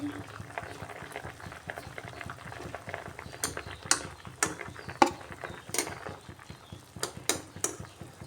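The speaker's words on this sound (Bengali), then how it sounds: "এগুলা খুব সুন্দরভাবে সিদ্ধ হয়ে গেছে এগুলাকে আমি উঠিয়ে নিচ্ছি" Boiled teasel gourds are lifted out of a pot over a steady bubbling of boiling water, with scattered sharp clinks of a utensil against the pot, close and moderately loud.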